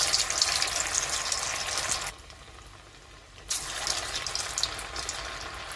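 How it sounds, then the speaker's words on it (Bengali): Soya balls dropped one by one into hot oil in a wok, frying with a steady bright hiss that briefly drops away for about a second before the sizzling returns just as loud. "কড়াইতে তেল চাপিয়ে দিয়েছি, তেলও গরম হয়ে গেছে। এবার এখানে এক এক করে ছাড়তে থাকবে।"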